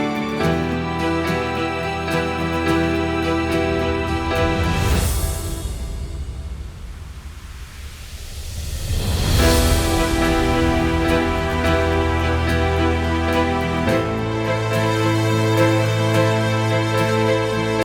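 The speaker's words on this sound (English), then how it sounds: "Because that sound is very digital and it's like a boom, like, I don't know, like a theatrical boom" A music mix with a synthetic, digital theatrical boom rises out of sustained chords, swells into a broad whooshing sweep, then drops back into the full arrangement with bass and pads, loud and without voices.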